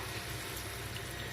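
Water poured into a pan of cooking drumstick leaves, a steady, close, full-band rush and hiss with no pauses.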